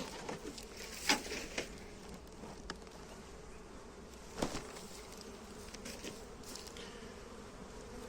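Honey bees hum steadily around an opened, weak beehive colony, a soft continuous buzz with a few brief louder passes close by, with no talking.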